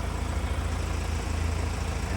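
A Ford Ranger XLT 4x4 pickup idles with a faint, steady, low engine rumble that holds even throughout, with no voices.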